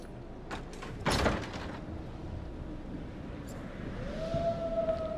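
A front door opening in the video game Until Dawn: a heavy thud and rattle, then a long sliding scrape and a rising whine, with ambient background throughout.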